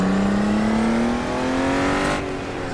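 A Honda NSX engine revs hard on a kart circuit, a loud, close, rising drone that climbs steadily before easing off near the end.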